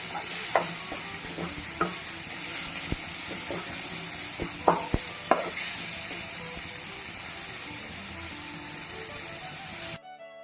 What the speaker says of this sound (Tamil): தேங்காய் வந்து அந்த பச்சை ஸ்மெல் போகிற வரைக்கும் ஒரு 3 to 4 மினிட்ஸ் வந்து நல்லா வதக்கி எடுத்துக்கோங்க